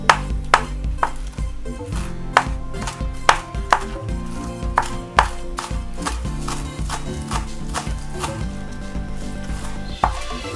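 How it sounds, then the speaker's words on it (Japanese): Small home-grown green onions are chopped into rounds on a board, a knife striking in quick, irregular close-up taps, some louder than others, over about ten seconds with no talking. "庭で収穫したネギですので、ちょっと小さいのでレシピには3本足りますけど、ちょっと多めに何本か小口切りにしていきます"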